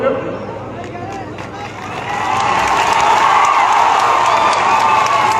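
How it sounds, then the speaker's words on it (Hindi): A crowd at a large political rally claps and cheers, the noise swelling after a couple of seconds into steady, dense applause. "ये ताली बजाने वाली क्या बात है"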